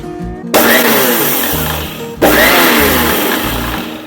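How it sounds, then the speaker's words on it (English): A mixer grinder pulsing roasted til (sesame) seeds in two loud whirring bursts, each starting abruptly and slowly dropping in pitch, close and without speech. "You use the mixer in the ulta way so that it is in the pulse mode and you just have to grind it."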